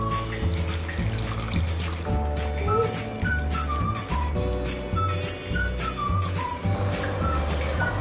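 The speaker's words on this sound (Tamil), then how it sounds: "இப்போ நான் புளி தண்ணி சேர்த்துக்கிறேன்" Tamarind water pours and trickles steadily into a pan of kovakkai (ivy gourd) kulambu, a continuous splashing under a constant background hum with faint voices.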